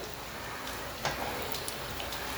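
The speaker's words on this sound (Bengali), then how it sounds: "এক্ষুনি ভাজা হয়ে যাবে এগুলো" Kebabs fry in oil in a steady, close crackling sizzle with a few sharper pops, and no one speaks.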